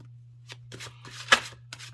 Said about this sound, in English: Let's pre-shuffle.